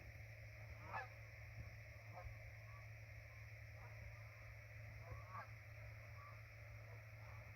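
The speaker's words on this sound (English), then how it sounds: "Oh, geese." Geese at sunset over a field honk in a few faint, distant calls scattered across several seconds, set against a steady low background hum.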